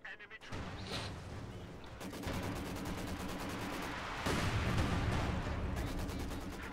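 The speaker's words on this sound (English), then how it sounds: "More artillery barrages right on top of these warehouses that are trying to collapse the entire building" Artillery barrages pounding warehouses in the World War II strategy game Company of Heroes 2, a dense continuous roar of explosions and booms that grows heavier partway through, with a faint voice briefly underneath.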